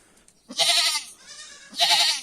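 A Saanen goat kid bleats while searching for its mother, giving two loud, wavering bleats with a short pause between them, close by on a farm.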